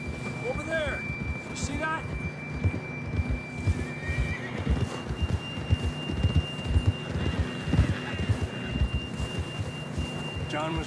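Horses whinny a few times near the start, then hooves clop steadily along with low rumbling ambience and occasional voices in the background, in the video game Red Dead Redemption 2.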